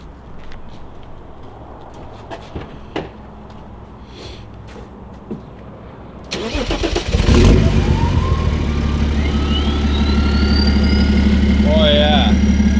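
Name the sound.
diesel BMW E90 engine revving with straight pipe exhaust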